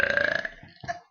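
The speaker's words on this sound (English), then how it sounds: "if somebody else burps, I have to burp after them" A woman burps loudly, a drawn-out throaty belch lasting about a second with a rough, pulsing texture, close to the microphone and heard alone without talk.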